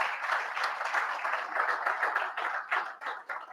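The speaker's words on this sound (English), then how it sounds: "Let's give a round of applause for Mr. Justice Malone." A round of applause from a conference audience, many hands clapping in a dense, steady patter that thins out toward the end.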